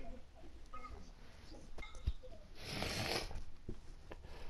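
A house cat meows a few times in a room, mid-level and fairly close, with a soft thump and scattered background noise from a running first-person shooter.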